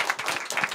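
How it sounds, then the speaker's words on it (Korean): A church congregation bursts into brief celebratory clapping during a Sunday worship service, a quick burst of overlapping claps heard close. "우리 크게 축하의 박수 한번 해주시고요"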